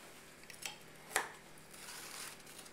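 A knife runs along the edge of a pan of cooled brownies, giving a brief metallic scrape and a light tap against the pan, close and quiet with no speech.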